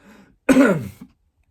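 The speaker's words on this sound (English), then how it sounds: "So I had a little bit of a cough" A single short, rough cough or throat clear, close and fairly loud, preceded by a faint murmur and followed by silence.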